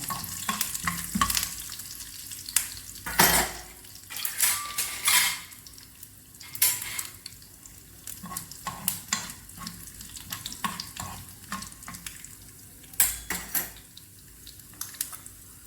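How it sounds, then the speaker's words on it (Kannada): Curry leaves and cashew nuts frying in a pan, a steady sizzle broken by repeated sharp scrapes and clatters of a spoon stirring against the metal, close and fairly loud throughout. "ಅದಾದಮೇಲೆ ಸ್ವಲ್ಪ ಕರಿ ಲೀವ್ಸ್ ಹಾಕಿದ್ದೀನಿ, ಮತ್ತು ಮೊದಲೇ ಹೇಳಿದಾಗೆ ಕ್ಯಾಶ್ಯೂ ನಟ್ಸ್ ಹಾಕ್ತಾಯಿದ್ದೀನಿ"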